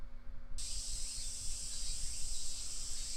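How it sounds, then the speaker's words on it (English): Cicadas singing in the visual novel If My Heart Had Wings, a loud, steady high-pitched drone that starts abruptly after a brief moment and holds continuously over low background hum. "The cicadas singing their hearts out"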